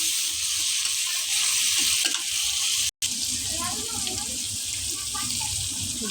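Onions dropped into hot oil in a wok for fish curry, a continuous crackling sizzle with spattering pops and a brief cut midway, faint voice under it.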